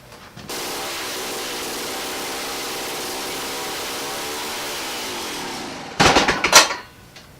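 Small two-stroke engine on an ice auger cranked and sputtering after a spark plug regap, a steady whirring pull for several seconds that fails to catch, followed by brief clattering knocks.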